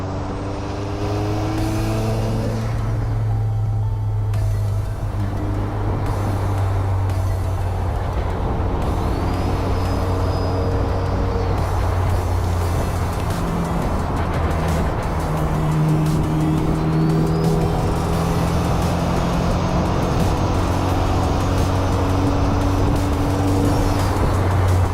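Sports cars including an MR2 and S2K cruise a winding mountain road on the Cherohala Skyway, their engines humming steadily and loud throughout, with pitch shifting as gears change and no talking.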